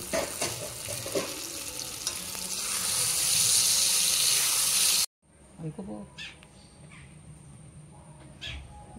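Chal kumra (ash gourd) leaf paturi is stirred in a hot pan, a bright sizzle that builds for a few seconds and then cuts off abruptly, leaving a quiet background with sparse clinks and scrapes.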